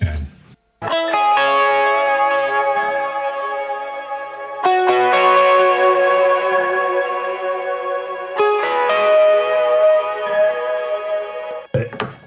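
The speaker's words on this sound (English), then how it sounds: "use a very fast delay time to simulate a spring reverb on that" Electric guitar notes ring out with a very fast delay simulating spring reverb, giving a springy, wet shimmer, struck about three times and left to sustain.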